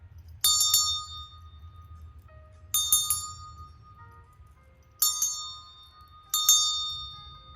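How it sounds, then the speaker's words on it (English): A small bell struck four times in a quiet room, each ring a bright metallic chime that fades slowly before the next, spaced about two seconds apart. "I'm gonna ring this bell."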